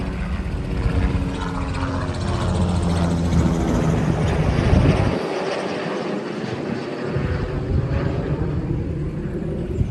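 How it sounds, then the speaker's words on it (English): A helicopter passing overhead in a rural area, a loud continuous rumbling drone with rotor throb that holds steady for the whole stretch, briefly thinning in the low end midway, with no talking. "I have never seen a helicopter around these parts before"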